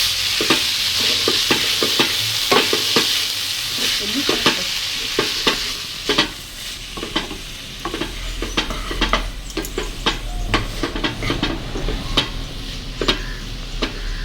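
Grated carrot, coconut and coriander stirred in a frying pan, a steady loud sizzle under frequent sharp scrapes and clinks of a spoon against the pan, close by.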